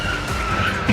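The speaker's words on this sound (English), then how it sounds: "the car crashes into a pole." A speeding car skids with a continuous tire squeal as the driver loses control, loud and close, with a brief thump right at the end.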